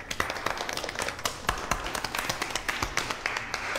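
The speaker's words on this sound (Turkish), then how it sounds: "Emeğinize sağlık. Bütün alkışlar size." A small group claps, giving a steady patter of close, overlapping handclaps.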